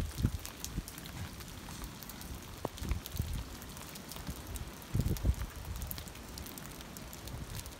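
Rain falls steadily outside a trail shelter at Black Gap on the Appalachian Trail. It makes a soft, continuous patter with scattered louder drops and light wind, heard faintly from within the shelter and with no voices.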